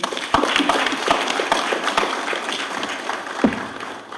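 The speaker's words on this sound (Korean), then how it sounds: "여러분 박수 한번 보내주세요" A conference audience applauds at a science and technology entrepreneurship talk concert, giving a dense, sustained wash of clapping with a few sharper individual claps near the start.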